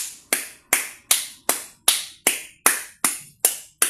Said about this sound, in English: And I clap for you.